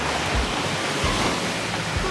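Waves at the beach roll in as a loud, constant surf roar with low thumps of breaking water and some wind rumble.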